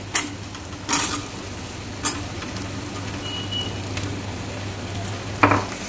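Potatoes tipped into a pan with turmeric and asafoetida, then stirred: a few metal clanks and scrapes of a spoon against the pan over a soft, steady sizzle and a low hum.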